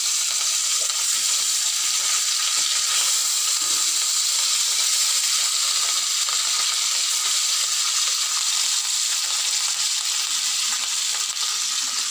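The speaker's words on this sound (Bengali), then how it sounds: "মাছগুলোকে ভেজে নেব" Fish fry in a pan of hot oil with a loud, dense, unbroken sizzle and hiss that holds steady throughout, with no talking.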